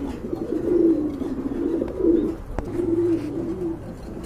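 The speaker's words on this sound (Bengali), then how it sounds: "এখানে কিন্তু আরেক জোড়া কবুতর আছে, ড্যানিশ কবুতর।" Danish pigeons of Andalusian colouring coo softly in a low, murmuring rhythm, with several rolling phrases close by, one brief sharp click midway, and no talk.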